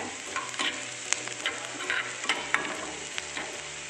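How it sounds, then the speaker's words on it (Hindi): Onions with green chili sautéing in a pan on a very low flame, a gentle continuous sizzle broken by repeated scraping stirs of a spoon against the pan, steady and close with no talk. "थोड़ा ब्राउन होने तक मैं सौते करूँगी ऑनियन, मैंने फ्लेम एकदम लो में रखा हुआ है"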